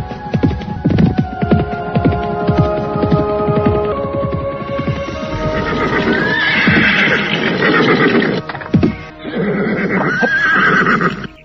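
A white horse gallops hard with rapid, rhythmic hoofbeats and repeated loud, drawn-out neighs over a steady throbbing rumble, continuing without pause for about eleven seconds.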